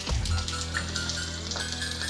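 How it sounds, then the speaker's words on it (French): Banana slices sizzling as they go into a hot frying pan for an omelette, a soft thump at placement followed by a steady low crackle of frying, close and fairly quiet. "je vais poser mes bananes dans la poêle parce que ça vient de chauffer."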